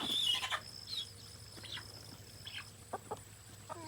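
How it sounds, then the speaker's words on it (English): Roosters and hens on a small farm cluck in short, scattered bursts at a moderate distance, with a faint outdoor background and no talking. "Look at the roosters."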